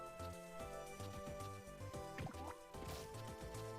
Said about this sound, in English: And somehow fall into the water.